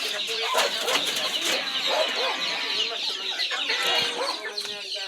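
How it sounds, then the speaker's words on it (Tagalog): Several chickens cluck and squawk nearby in an irregular, busy chatter, with a faint voice mixed in among them. "Hala na ilang manok."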